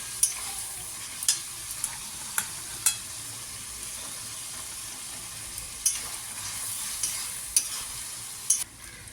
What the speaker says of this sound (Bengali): মশলার সাথে কষিয়ে তেলে একেবারে ভেজে নিলাম মটরশুঁটিটা।